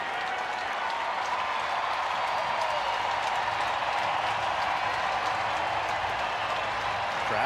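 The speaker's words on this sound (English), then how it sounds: "Crowd starting to make some noise because there's nowhere to put him." A large baseball stadium crowd at a Chicago White Sox at San Francisco Giants game roars and cheers continuously, a loud sustained wash of voices and clapping that holds steady throughout.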